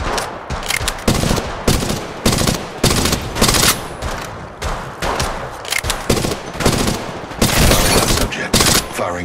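Heavy gunfire from the video game Apex Legends Mobile comes in loud, dense automatic bursts and fusillades, very close and nearly continuous, with a voice speaking between shots.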